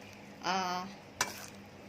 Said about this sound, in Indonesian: Kita mau goreng dia, goreng kicap.